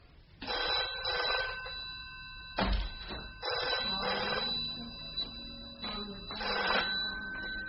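An old-style telephone bell rings loud and close in repeated bursts, used as a sound effect in a classic BBC radio detective drama, with no voices over it.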